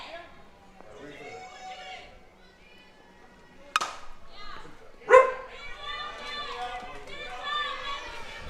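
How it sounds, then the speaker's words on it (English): A dog barks a few times at a dog-friendly park during a women's open club softball championship, heard mid-distance amid ongoing outdoor commentary and background chatter. "Had a little noise from Chopper's dog."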